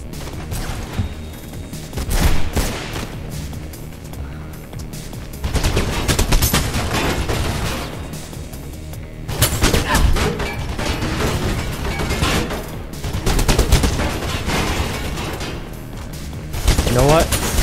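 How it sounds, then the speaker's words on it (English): Gunfire in the video game Mirror's Edge, loud and dense bursts of machine gun fire with crashes, recurring in waves through the whole stretch. "goddamn machine gun."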